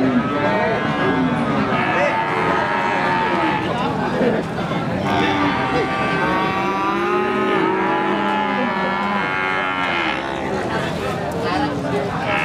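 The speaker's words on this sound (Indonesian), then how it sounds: "Nah, ini sapinya. 19 nomor tidol ini. Limusin." Limousin beef cattle at a sale pen, repeated loud drawn-out moos from several animals over continuous crowd noise and someone talking nearby.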